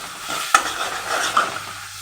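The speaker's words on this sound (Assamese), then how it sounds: "এতিয়া এইখিনি মই ধুনীয়াকৈ ফ্ৰাই কৰি ল'ম।" Garlic for a chutney frying in a pan, a soft steady sizzle with stirring scrapes and one sharp knock of a utensil against the pan early on.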